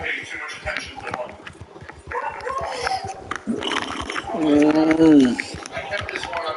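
Dogs bark and whimper in the video game GTA V, with one clear, loud bark standing out near the end. Someone talks over and between the yelps.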